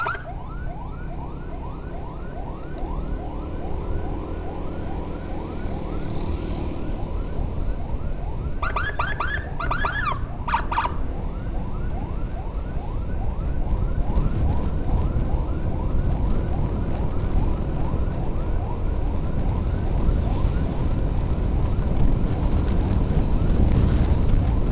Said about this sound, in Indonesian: Jadi ini ketemu di jalan guys, ambulan